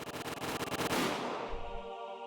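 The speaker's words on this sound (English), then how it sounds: "The sound of the gunshots echoed in the silence." Rapid automatic gunfire from soldiers in the Higurashi: When They Cry (Minagoroshi) video game, a dense burst of repeated shots that swells, then cuts off into a ringing echo fading away.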